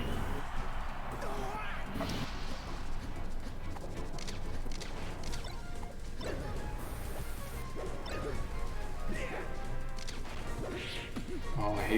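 A forward smash lands in Super Smash Bros. Melee during a Falco vs. Marth match, a sharp hit buried in dense, continuous game noise and effects, with people talking throughout.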